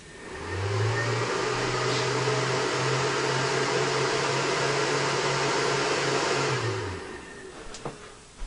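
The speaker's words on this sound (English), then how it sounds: "Make sure you plug in your microwave." A microwave oven powered through an inverter hums loudly and steadily for about six seconds, then winds down, followed by a faint click.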